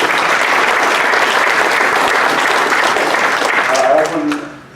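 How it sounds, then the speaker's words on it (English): An audience at the Surrey Arts and Business Awards ceremony bursts into loud, dense, sustained applause nearby, which tapers off and fades at the end. "Let's give her a big applause, please."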